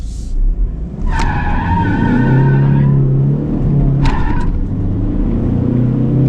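A 2021 Ford Ranger XL Street Special Edition pickup accelerating hard, its engine droning loud and close throughout with a steady rising roar and brief tire squeals riding over it.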